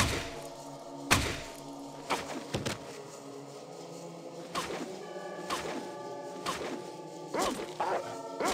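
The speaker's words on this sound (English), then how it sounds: "Reload my gun." Gun reloading in Fallout 1, a series of crisp mechanical clacks, thunks and metallic clicks spaced irregularly over several seconds against soft tonal game ambience.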